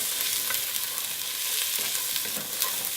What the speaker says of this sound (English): Once my oil is hot enough, I'm going to add some garlic and some red onion that I've chopped up.